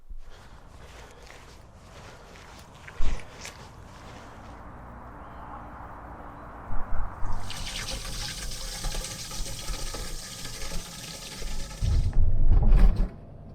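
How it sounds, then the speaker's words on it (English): Water running from a tap into campervan water containers, a steady rushing fill that grows louder and brighter partway through, with a few knocks and handling bumps near the end. "fill up the water containers"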